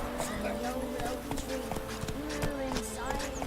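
Hooves of Roach, a horse in The Witcher video game, clip-clop in a steady repeating rhythm at close range, with a sustained musical drone running underneath.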